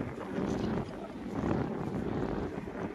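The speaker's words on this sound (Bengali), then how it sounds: "গাইছে অনেক বাতাস এখানে" Strong wind buffets the microphone in a constant low roar, gusting and rumbling throughout with no speech.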